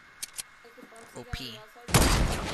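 Gunfire in Fortnite: a couple of sharp shots, then talking, then a loud burst of rapid fire near the end.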